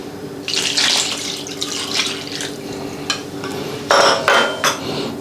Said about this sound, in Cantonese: 我哋再將呢一個倒落去